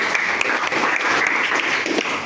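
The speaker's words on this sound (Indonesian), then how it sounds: "Tepuk tangan untuk Mas Gamal." Students in a Python programming class applaud a classmate with a brisk, dense round of clapping that holds steady for about two seconds.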